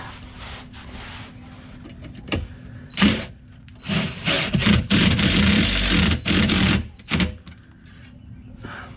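A power tool drives a bolt into a bracket during a heater install in a hotshot truck: several rough mechanical bursts, the longest in the middle, loud and close, with no talk.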